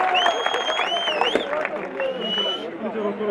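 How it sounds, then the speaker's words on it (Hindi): At a Congress party campaign rally in Punjab, a crowd applauds and cheers to welcome Sachin Pilot. The clapping stays steady beneath amplified talk from the stage, with whistle-like tones over the noise. "जोरदार तालियां ਨਾਲ सचिन पायलट जी का स्वागत।"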